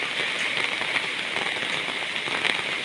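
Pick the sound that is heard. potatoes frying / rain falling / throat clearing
rain falling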